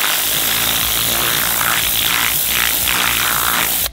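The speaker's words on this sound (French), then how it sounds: "Néo qui s'éclate avec son karcher là-bas au fond" Kärcher pressure washer blasting water to clear weeds around a pool during cleaning, a steady loud broadband hiss and roar with slight pulsing surges, continuous throughout and cutting off abruptly at the end.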